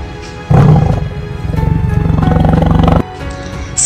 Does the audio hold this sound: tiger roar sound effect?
yes